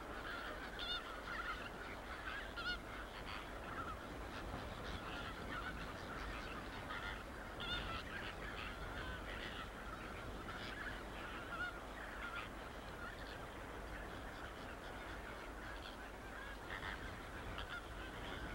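A dense flamingo colony calls from an alkaline lake near Ol Doinyo Lengai in the Great Rift, a steady overlapping honking chorus of many birds with no pauses.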